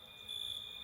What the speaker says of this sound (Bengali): বাইরে থেকে ঝিঝি পোকার ডাক ভেসে আসছে কানে।